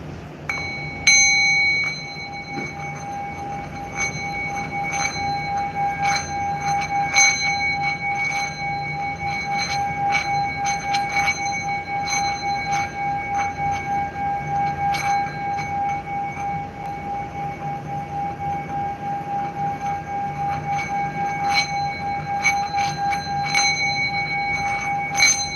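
A bell rings steadily for about twenty-five seconds, a sustained ringing tone struck again and again in an irregular rhythm, loud and close with no voices.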